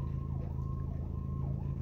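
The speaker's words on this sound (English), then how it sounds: "The sirens going off again." An emergency siren wails steadily, rising and falling in slow sweeps over a low rumbling hum, heard from a distance and fairly faint.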